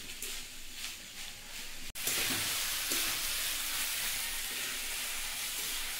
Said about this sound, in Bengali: রাইসটা দিয়ে দিয়েছি, এবার ভালো করে নাড়াচাড়া করবো।